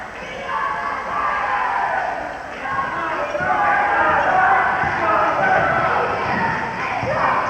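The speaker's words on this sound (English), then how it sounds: "Enthusiastic crowd here at the middle school" An enthusiastic crowd fills a middle school gym at a 1985 8th grade championship basketball game, a loud continuous roar of chatter and cheering that swells and dips, with faint dull thumps from the court.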